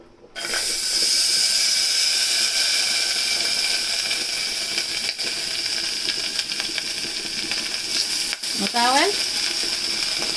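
Butter sizzles steadily in a hot pot as the base for a béchamel sauce, a loud continuous frying hiss with a brief stir or scrape near the end.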